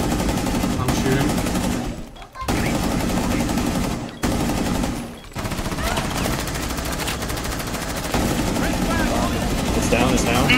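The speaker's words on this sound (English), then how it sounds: "I'm shooting." Rapid automatic gunfire from the Rainbow Six Siege video game, loud sustained bursts broken by short pauses, with a player talking over the shooting.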